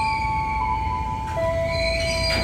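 A KRL commuter electric train pulls into Cilebut station, giving a steady rumbling roar with sustained tonal motor whines that shift pitch partway through, heard continuously without talk.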